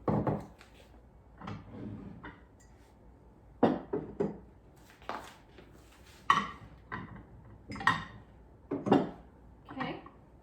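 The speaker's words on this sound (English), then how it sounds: "we're going to put some more of these cereal bowls up here" Cereal bowls set onto a vintage farmhouse hutch, giving a series of close ceramic clinks and knocks at irregular intervals, with some soft wooden bumps from the hutch shelves.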